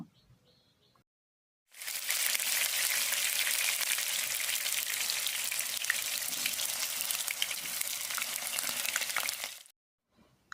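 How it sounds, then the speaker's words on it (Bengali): Cut potatoes hit hot oil for a chicken curry with yogurt, bursting into a loud, dense, steady sizzle after a short quiet start; the frying roars on for about eight seconds, then cuts off abruptly. "তেল যখন খুব ভালো পরিমাণে গরম হয়ে যাবে, আমরা তেলের মধ্যে দিয়ে দেব কেটে রাখা সব আলুগুলো ভেজে নেওয়ার জন্য।"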